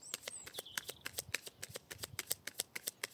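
A deck of tarot cards being cut and riffled, giving a quick run of crisp card snaps and flutters close up, with no voice.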